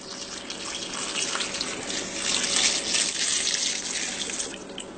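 Broth, about three cups, pours steadily into a slow cooker for a gumbo, a continuous close splashing trickle that swells slightly midway, with no speech over it.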